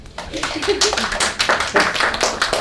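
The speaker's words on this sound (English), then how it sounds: "So let's welcome him with a big round of applause." An audience claps to welcome a speaker at a talk, with distinct, fairly sparse claps from a modest crowd that sound close and loud, rising and falling in uneven bursts.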